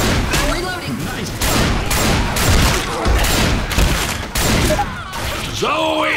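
Dense gunfire in the video game Left 4 Dead 2, a loud, continuous barrage of overlapping shots and booms with no pause, while voices shout over the shooting.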